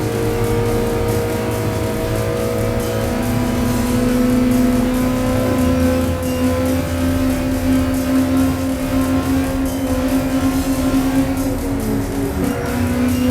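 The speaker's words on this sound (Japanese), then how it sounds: "この辺はわずかな上りなので N360 の非力なパワーではちょっと厳しいです。" A Honda N360 kei car's small engine straining uphill on a racetrack, a steady loud in-car drone with a sustained engine tone and faint shifts in pitch, no talk.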